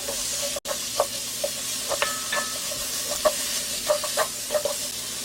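Green onion and minced garlic stir-fry in oil in a frying pan, a steady soft sizzle broken by scattered light clicks and taps of stirring, with no talking.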